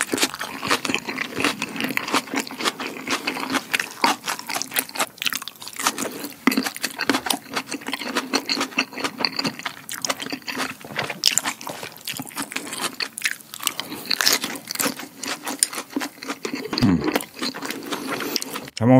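Eating a crunchy salmon salad close to the mic, with rapid repeated crisp bites and chewing of fresh vegetables running steadily throughout, no talking.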